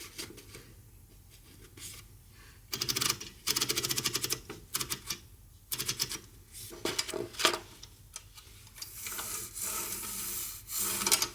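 An Empire Aristocrat portable typewriter is typed on during testing after cleaning, giving bursts of rapid crisp key clacks separated by short pauses, close and clear with no voices.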